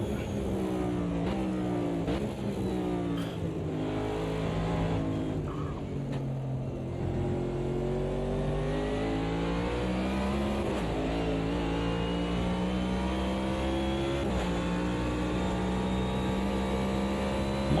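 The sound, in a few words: race car engine in the sim racing video game Automobilista 2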